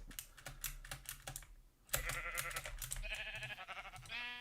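Sheep in the video game Minecraft give several short bleats between quick bursts of computer keyboard typing, with no one speaking.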